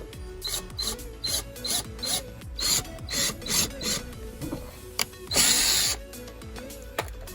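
Power drill driving screws into Nissan 350Z mudguards, with repeated short whirring bursts in a steady rhythm and a longer grinding run near the end, loud and close with no talking.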